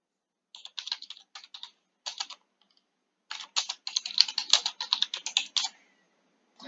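Typing a SQL select query on a computer keyboard: bursts of rapid, close keystrokes with short pauses between words, then a longer dense run of taps, no talking.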